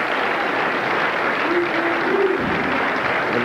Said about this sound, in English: And now there are some Holman rooters in the crowd.